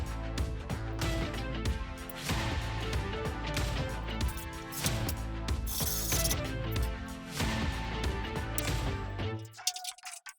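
A ratcheting driver runs screws in to reattach the frame of a Samsung dryer during a squeak repair. The clicking mechanical whir is steady, continuous and close.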